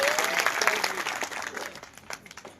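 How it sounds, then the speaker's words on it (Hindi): Sustained audience applause at a Bhagwat Katha religious gathering, a dense crowd of many hands clapping steadily and loudly for the guru, with no talk over it. "एक बार जोरदार ताली बजाओ गुरु जी के लिए।"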